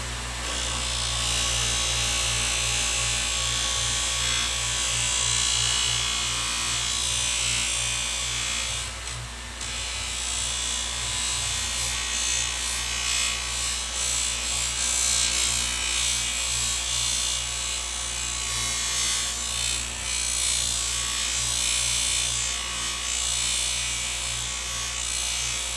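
A power sander grinds steadily against wood, a loud, continuous abrasive whir with a brief dip partway through.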